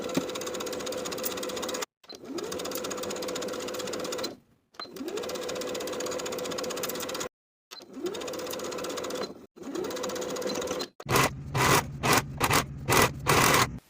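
A sewing machine stitches a blouse sleeve on with a 3/8 inch seam, running in several steady multi-second bursts with brief pauses between, then ending in quick choppy stitches.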